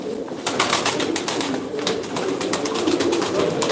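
Pigeons coo continuously over a dense, busy background of fluttering and shuffling, loud and close, with no talking.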